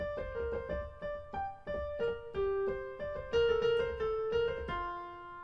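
The top voice of a three-voice fugue plays alone, steady notes moving stepwise in a clear, moderate rhythm.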